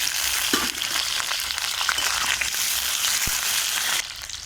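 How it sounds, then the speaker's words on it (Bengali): Potatoes frying in oil in a wok, a continuous close sizzle and crackle with occasional stirring scrapes and no talking. "আলুগুলো আগে ভেজে নেব।"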